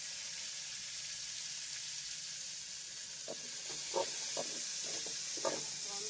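Ivy gourd (kovakkai) frying in oil in a pan gives a steady, soft hissing sizzle, with a few brief scraping stir noises from a spatula near the end and no talk.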